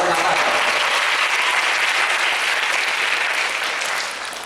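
Large audience at a university religious gathering in Indonesia bursts into applause, a loud dense wash of clapping that holds steady and then begins to fade at the end.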